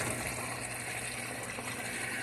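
Seachem Tidal 110 hang-on filter on a 65-gallon aquarium drawing water hard, a steady rushing, gushing flow of water without pause, fairly quiet and close.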